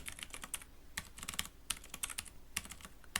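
Python code being typed on a computer keyboard: rapid, irregular bursts of key clicks with brief pauses, close and clear, with no talking.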